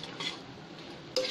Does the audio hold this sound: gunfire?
no